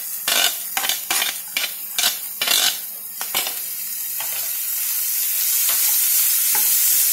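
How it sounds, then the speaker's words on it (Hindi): Chopped cabbage, carrot and capsicum are stir-fried for manchow soup, with a spoon scraping and clanking against the pan in a quick series of strokes before a steady, rising sizzle takes over. "बारीक कटी हुई सब्जियां डालते हैं जैसे कि कैबेज, गाजर,"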